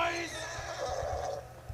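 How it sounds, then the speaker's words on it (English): A horse neighs in the video game Borderlands 2, a clear whinny and some hoof clops under a voice. "A stallion, a horse, psychos."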